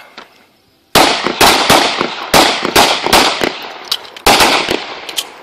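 Firearms at a shooting practice let off a rapid series of loud, sharp shots close by after a moment of near quiet. The cracks come in quick bursts, one after another.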